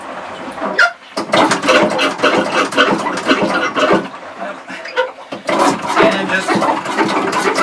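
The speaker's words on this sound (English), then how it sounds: "as I pump this, it's coming out of the sink, going into the head, and then up to the holding tank" A manual pump on a boat head is worked by hand to move water through the toilet into the holding tank, giving rhythmic close squelching and clunking strokes, with a person speaking briefly.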